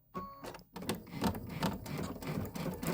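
A home sewing machine stitching through a thick center seam of quilted Kimberbell tiles, a steady, close mechanical whir with a brief pause and restart, running continuously.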